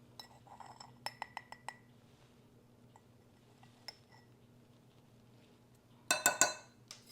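A glass jar of bulk baking powder clinks as a metal spoon taps it, with a quick run of sharp clinks early on and a louder cluster of glassy rattles near the end, close and otherwise quiet.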